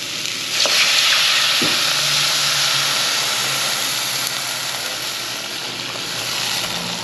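A pot of water bubbles and hisses at a steady boil, a constant close sizzling rush with an occasional clink.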